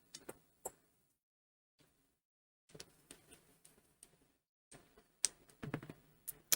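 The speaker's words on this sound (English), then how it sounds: "I'm also going to roll this D6 to see any type of months." A six-sided die is rolled in short bursts of faint, light clicking and rattling, separated by quiet pauses, with no voices.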